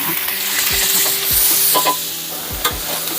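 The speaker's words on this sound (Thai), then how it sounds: "ผัดหมูให้เหลืองนะผัดหมูกระเทียม" Pork stir-fries with garlic and shallots in hot oil in a pan, a loud close sizzle broken by several sharp scrapes and knocks of a spatula as it is tossed, with no talking.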